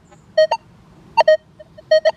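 Minelab Manticore metal detector giving weak target tones beside a can slaw, three pairs of short bright electronic beeps spaced evenly, clear and alone.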